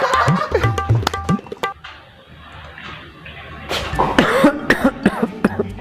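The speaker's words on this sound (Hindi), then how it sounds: "आप कंटिन्यूसली खांस रहे हैं।" A person coughs in several sharp, repeated bursts close up, with a brief quiet gap partway through before more coughing follows.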